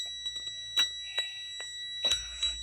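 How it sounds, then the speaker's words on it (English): Warning chime inside a 2021 Seneca 37M motorhome with the ignition off, a steady high-pitched electronic tone sounding through the clip, with a few soft clicks and taps around it. "It's beeping at me because I don't have the ignition on."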